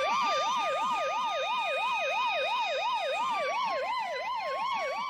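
Police car siren wailing in a steady, rapid up-and-down pattern, loud and continuous, with no other sounds.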